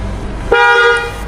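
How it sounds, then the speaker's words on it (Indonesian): A Jeep Wrangler JK/JL horn blares once, loud and close, a single steady honk of about half a second at a Jeep specialist workshop. "Klaksonnya dulu coba."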